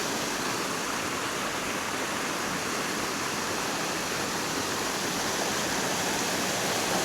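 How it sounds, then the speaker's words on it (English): A waterfall in Jesmond Dene park, Newcastle, heard from its top as a loud, continuous broadband rush of falling water, unbroken throughout. "So here we are, top of the waterfall."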